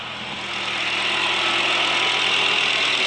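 A Volvo 850 engine idles steadily after its oil pan O-rings have been replaced, a continuous close mechanical hum and whirr that holds level throughout with no voices.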